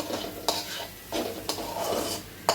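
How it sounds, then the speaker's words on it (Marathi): Chili powder stirs in hot tempering oil in a pan for onion chicken, a quiet sizzle broken by several sharp scrapes and clinks of the spoon against the pan at regular intervals. "पण चांगली परतून घेते मी"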